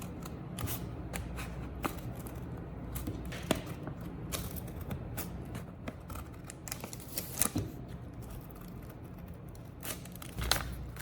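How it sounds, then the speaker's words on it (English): Scissors snip holes through a folded paper bag, a series of sharp close cuts and crinkles at irregular intervals, with no voices. "fold the bag in half and cut the same way in the center."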